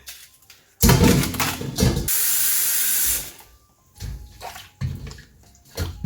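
Tap water gushes in strong bursts onto a 2.5-pound package of frozen calamari soaking to defrost, one long steady pour and several shorter splashes, close and loud with brief quiet gaps between.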